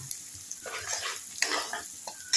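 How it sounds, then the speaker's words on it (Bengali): Asafoetida sizzles in hot oil in a pan, a soft crackling hiss that swells and fades in bursts, fairly quiet and close, with no voices. "আমি তেল বসিয়ে দিয়েছি। তেলের মধ্যে 2 চামচ পরিমাণ হিং নিয়েছি"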